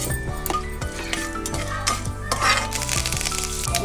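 Crackling sizzle of seeds frying in hot oil, with a spoon stirring and scraping against the pan in an uneven rhythm.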